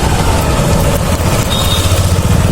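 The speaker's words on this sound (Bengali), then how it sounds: "গাড়ি আমার ফার্স্ট গিয়ারে চলছে" A motorbike engine runs steadily in first gear on a very bad, rough road, a loud continuous low rumble close by with no talking.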